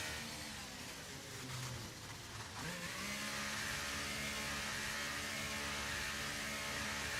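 Formula 1 cars in the F1 23 game at the Portugal circuit, engines droning and revving faintly under a dense wash of noise, one note dropping sharply before a steady roar continues.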